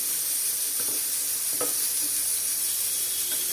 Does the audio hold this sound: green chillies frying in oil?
yes